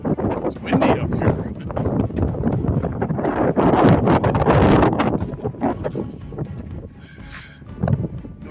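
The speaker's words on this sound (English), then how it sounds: "it's windy up here." Gusty wind in South Dakota buffets the microphone in rough, roaring bursts, with rumbling and thumping underneath that rises and falls throughout.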